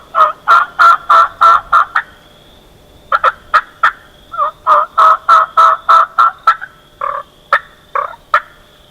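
A hunter imitates hen turkeys with hunting calls, producing loud, close series of sharp yelps and clucks in quick rhythmic bursts, with a short pause before the series resumes.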